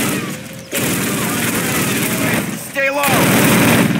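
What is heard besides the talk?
machine gun fire in Call of Duty video game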